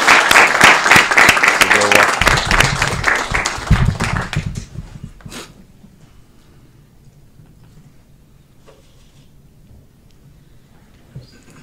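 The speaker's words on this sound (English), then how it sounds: "Let's give a round of applause." Applause fills a council chamber for an award-winning elementary school principal of Indian Prairie School District 204, loud dense clapping for about four seconds before dying away into quiet room tone with a few faint stray sounds.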